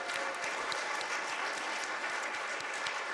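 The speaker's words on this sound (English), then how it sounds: "Round of applause, absolutely." Steady applause from a congregation fills a Shabbat service, a dense even patter of many hands clapping throughout, fairly soft and distant.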